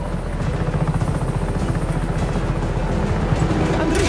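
A helicopter in the video game Just Cause 3 keeps up a steady, loud rotor thrum with a rapid chopping pulse that runs the whole time, with voices faintly mixed in underneath.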